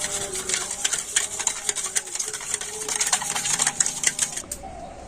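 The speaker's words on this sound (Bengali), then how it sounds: "এখন আমি চিনি দুধ আর কর্নফ্লাওয়ারটা খুব ভালোভাবে মিশিয়ে নিচ্ছি" A spoon clatters quickly and rhythmically against a bowl while sugar, milk and cornflour are whisked together for a watermelon pudding, a close, busy tapping that runs steadily and stops abruptly.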